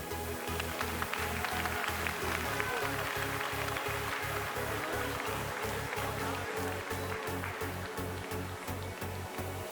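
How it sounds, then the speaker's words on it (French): An audience at a Salers cattle show applauds for Lucie: steady, dense clapping with faint music in the background. "Voilà, donc vous pouvez applaudir Lucie."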